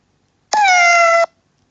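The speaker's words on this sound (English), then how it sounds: "Kitten. A kitten is a baby cat." A kitten gives one clear, close meow lasting under a second, loud and alone against silence.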